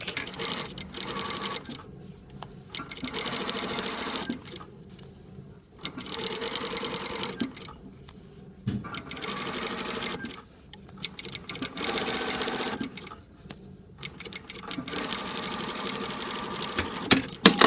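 A sewing machine stitching a bias bound seam along a 5 mm seam allowance, running in rapid mechanical bursts of a few seconds each, separated by short pauses, close and clear with no talking.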